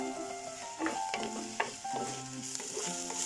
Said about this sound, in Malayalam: സവാള കുറച്ചൊന്ന് വഴന്ന് വരുമ്പോൾ പച്ചമുളകും കറിവേപ്പിലയും കൂടി ചേർത്ത് കൊടുത്തൊന്ന് വഴറ്റിയെടുക്കാം.